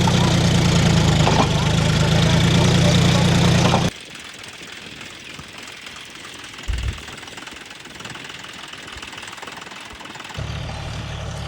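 A John Deere tractor engine running in a field, first a loud steady rumble up close, then a quieter, more distant drone with brief knocks, rising again near the end.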